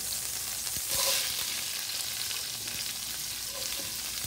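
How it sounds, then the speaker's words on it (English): Onions hit a very hot stir-fry pan and give an even, moderate sizzle throughout, with a brief louder burst of hiss near the start and a few light clinks. "Now what I want is I want to get this pan really hot again. I'm going to start throwing my onions."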